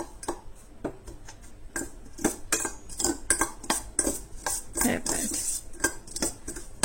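A spoon stirs masala into mango pickle in a steel pot, making quick, irregular clinks and scrapes that run steadily and close, with no talk.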